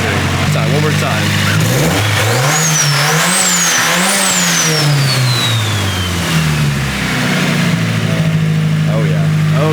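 Turbocharged SR engine on a Dream Turbo setup, revving hard close by, its pitch climbing and dropping over several pulls, with a whistling turbo spool and people talking and cheering over it.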